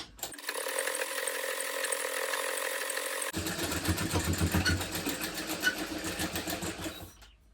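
A sewing machine stitches in a close, steady whirring run, then shifts to a slightly rougher, pulsing rhythm partway through as a second line of stitching is sewn, with no talk over it.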